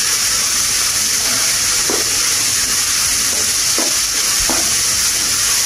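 Green chillies and curry leaves being stirred in a pan for chicken bread, a steady hiss of frying with a few soft scrapes of the spoon against the pan, no talking.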